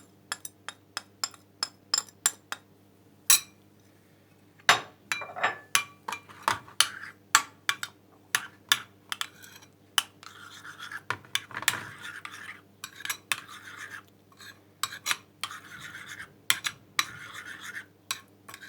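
A spoon stirs yogurt mixed with cinnamon, ginger and turmeric in a bowl, giving a run of quick, crisp clinks and scrapes against the dish in an uneven rhythm, near and fairly loud, with no talking.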